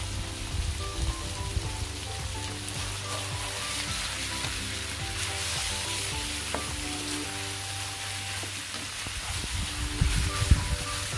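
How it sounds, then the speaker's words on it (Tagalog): Pork sautéing and being stirred in a pan for Filipino Bicol Express, a steady soft sizzle with occasional scraping stir sounds, constant throughout and fairly quiet, with no voices. "Haluhaluin lang natin ito hanggang magpantay-pantay ang pagkakasangkutsa ng ating pork meat."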